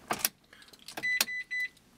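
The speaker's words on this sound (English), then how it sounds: "So turning the car on" A Mitsubishi electric car is switched on after its auxiliary battery is reconnected: clicks and relay sounds, then several short electronic chimes and beeps in a row, close and fairly loud.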